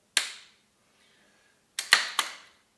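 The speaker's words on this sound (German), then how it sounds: "Dann kann man ganz intuitiv repetieren, den Punkt überfahren und die Waffe ist wieder schussbereit." A Heym SR30 straight-pull rifle action being cycled: a sharp single metallic clack, a pause, then three quick clacks in close succession, crisp and close with no talk.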